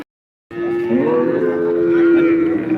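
At a cow market in Modnimb, a single cow lets out one long, loud, drawn-out moo close by after a brief silence.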